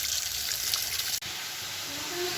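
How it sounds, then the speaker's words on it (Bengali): Hilsa and silver carp pieces being washed under running water, a steady close rush of splashing water with a brief break partway through. "ভালো করে একটু ধুয়ে নিই।"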